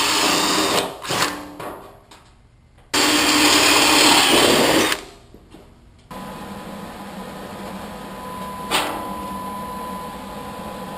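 Power drill boring through 20-gauge aluminized steel sheet metal backed by a wooden block, several short whirring bursts with pauses between them, including one long sustained drilling run, with no talk.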